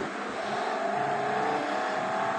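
A car engine in a driving video game revs and pulls away as it picks up speed after the handbrake is released, a steady, loud, continuous roar with no voices.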